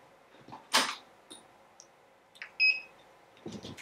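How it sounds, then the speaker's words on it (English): A therapeutic ultrasound machine used for inflammation and lower back pain gives short electronic beeps as it powers on, a bright tone near 2.6 seconds standing out over faint room noise and a few soft handling clicks. "You can hear the beep."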